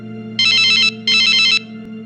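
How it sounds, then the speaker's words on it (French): A telephone rings in two electronic bursts, each lasting about half a second with a short gap between them, clear and close over a steady low background hum. "il faut que j'appelle le monsieur"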